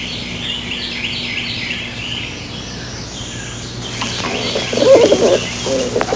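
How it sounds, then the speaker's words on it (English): An animated pigeon cooing in a cartoon: soft, throaty coos grow louder toward the end over a quiet, steady background. "Good pigeon."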